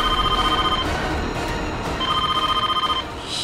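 A telephone rings in a household drama scene, its repeated electronic trill coming in two clear bursts with a short gap between them, loud and close with no talk over it.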